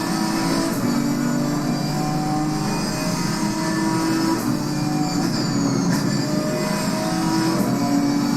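A GT4 race car's engine drones steadily in Assetto Corsa Competizione on PS5, a continuous loud hum with slight pitch shifts as it drives a track, with no talk.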